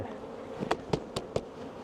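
Steady low buzzing of many honeybees in a hive fills the background, with a few sharp clicks or taps rising above it.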